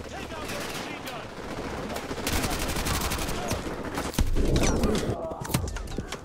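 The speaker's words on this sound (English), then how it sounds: "Where am I getting shot from?" Gunfire in the game Modern Warfare 2 Remastered, a chaotic mix of near and distant shots and bursts in a firefight, with sharp loud cracks standing out and a voice talking in the background.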